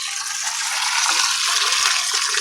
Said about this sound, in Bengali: জলটা চালিয়ে রেখে গেছিলাম জলটা ভরে গিয়েছে